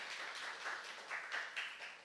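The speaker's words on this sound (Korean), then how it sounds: "박수로 환영하겠습니다" Audience applause welcoming a guest at a church book concert, a dense continuous patter of clapping from a crowd, fairly even in level with slight swells, heard at a moderate distance.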